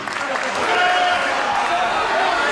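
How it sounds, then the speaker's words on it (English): A crowd at a live wrestling event claps and cheers in a broad, steady roar that fills the whole stretch. "Every one of you that stand up clapping right now"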